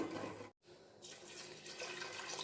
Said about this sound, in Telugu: కొంచెం వాటర్ పోద్దాము